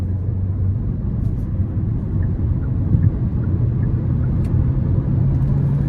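A 2024 Hyundai Kona Limited AWD with its 1.6 turbo four-cylinder accelerating in sport mode onto an interstate, a steady low engine drone and road rumble heard from inside the cabin, fairly loud and continuous.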